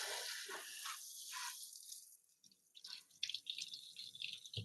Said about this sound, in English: Just gonna have a drink, actually, some water.